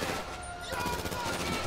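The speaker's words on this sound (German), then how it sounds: "Mann, die schießen!" Shooting in GTA V during a bank-heist getaway: a steady wash of rapid gunfire rattles on without pause, moderately loud, with game noise layered around it.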